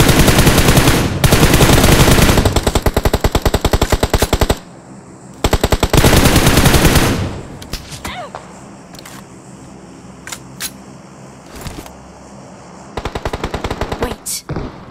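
Automatic gunfire from the PUBG Mobile video game, loud and close in long rapid bursts, broken by quieter stretches with scattered single shots, then another burst at the end.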